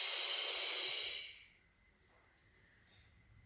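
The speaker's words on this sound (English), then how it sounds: "Exhale up." A long, breathy exhale during a Pilates core exercise with a small ball, loud and close at first, then fading into quiet room tone with a faint later breath.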